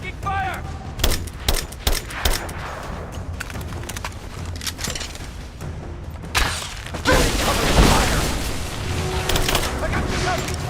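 A Rise of the Tomb Raider firefight: rapid gunshot volleys and clattering impacts, growing into a louder, denser barrage of fire, with combat voices calling out over the shooting.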